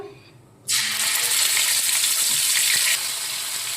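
Onion paste hits a hot pan of oil already holding red chillies and cumin for ghugni, setting off a sudden loud, close sizzle that holds steady and bright to the end.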